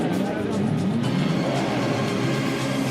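Grand Prix racing cars of the Mercedes era with Stirling Moss and Fangio roar steadily past, a dense continuous engine drone at a race start, loud and without a break.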